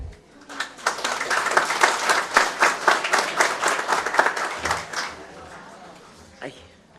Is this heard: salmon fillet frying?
no